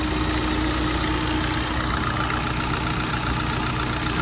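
A 2019 Maruti Dzire ZDi+ automatic diesel car idles with a steady, even engine hum and faint mechanical ticking, heard close by with no voices.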